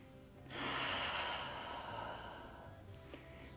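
One slow, deep breath exhaled through the nose during a back and shoulder massage on a ball, a soft close rush rising quickly and then fading, alone in a quiet room.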